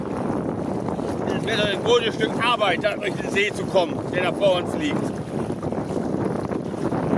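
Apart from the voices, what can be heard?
strong wind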